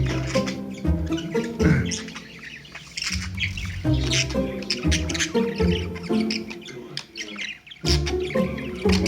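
Pet budgies chirp and squawk almost continuously, close by and fairly loud, in a busy chatter of warbles, squeaks and sharp calls with brief dips between phrases. A person talks now and then under the bird sounds.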